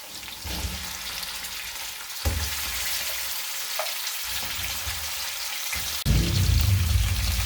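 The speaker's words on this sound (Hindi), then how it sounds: "ये चिकन डाल के थोड़ा भून लेते हैं।" Desi chicken sizzles and crackles in hot oil in a pan with whole and green chilies, a steady frying hiss with occasional stirring that swells louder near the end.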